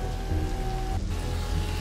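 Steady rain falls on a road and a patrol car at night, a continuous dense hiss of drops with a faint tonal hum running beneath it.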